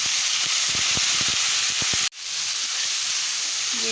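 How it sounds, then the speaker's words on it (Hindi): Garlic paste and spices fry with onions in hot oil for a tinda gourd sabzi, giving a loud, close, continuous hiss and sizzle that cuts out briefly and then resumes, with no voices. "मसाले ये देखें भून रहे हैं"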